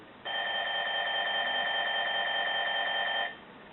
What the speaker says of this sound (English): sounds a bit like an old-fashioned twin bell alarm clock